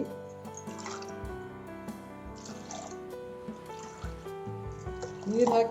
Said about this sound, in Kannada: ಇದಕ್ಕೆ ಎರಡು ಅರ್ಧ ಲೋಟ ನೀರು ಹಾಕಬೇಕು.